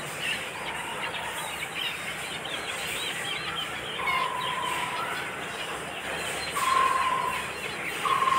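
Young chickens being vaccinated with an H9N2 shot under the skin of the neck cluck in short, moderately loud calls over a steady background noise.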